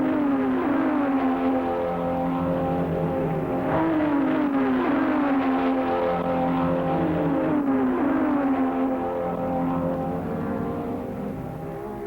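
Racing cars of a 1961 sports car race roar past one after another, loud engines rising and falling in pitch as each passes close by, continuous throughout.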